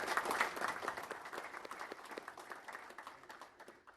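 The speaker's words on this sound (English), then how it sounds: "Let's give a round of applause." A crowd at the Milwaukee AI Symposium keynote breaks into applause, a dense wash of clapping that starts strong and gradually thins and fades over a few seconds, with a faint cheer near the start.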